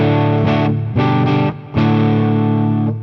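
An electric guitar with two P-Rail pickups wired as a series humbucker plays distorted, sustained chords, three struck in quick succession then one held long, loud and up close with no talking.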